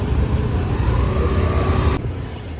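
Road traffic in Sindhudurg passes close by as a steady, loud engine rumble with a rising whine, continuous for a few seconds without talking.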